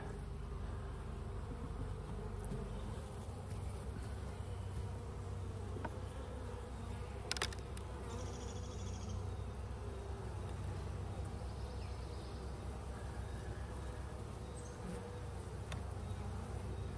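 A steady, dense buzzing of many honeybees at an open hive during inspection, close by, continuous throughout with a few brief louder passes.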